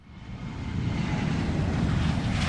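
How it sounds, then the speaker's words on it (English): A jet aircraft passes overhead, a broad roaring rumble that swells over the first second and then holds loud and steady, with no voices. "It's a jet, man."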